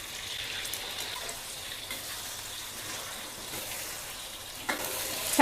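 Egg drops into a pan of hot oil with golden fried garlic and sizzles in a steady, fairly quiet hiss throughout, ending with a brief louder crackle at the end.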